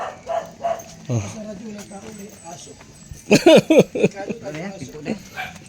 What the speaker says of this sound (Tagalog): May aso, walang tao.